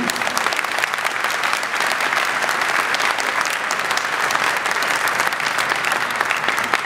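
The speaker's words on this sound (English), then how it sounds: "Please give a big hand of applause to Congresswoman Chu" Sustained audience applause for Congresswoman Chu at an Eid al-Fitr gathering, a dense, steady wash of many hands clapping at full volume for about seven seconds with no talk over it.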